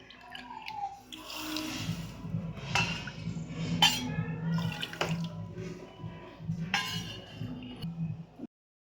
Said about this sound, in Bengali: 2 বাটি জল দেবো।